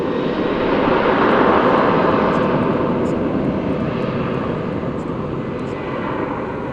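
An airliner takes off at DFW Airport, a loud broad jet engine roar that swells and then holds steady as it powers down the runway, with no talk over it.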